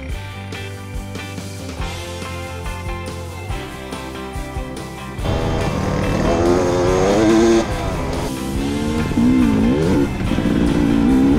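A 2022 Dakota 600 motorcycle rides down a gravel road, its engine droning steadily at first, then rising into louder revving with shifting pitch as wind and road noise build.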